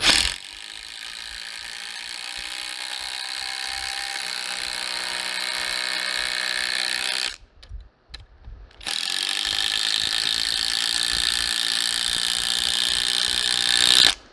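A Skil cordless impact driver set to speed 4 on high, fully charged, drives screws with loud rapid ratcheting hammering that builds up, breaks off briefly around the middle, then resumes strongly until the end.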